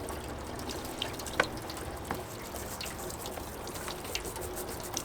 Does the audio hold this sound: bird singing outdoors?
no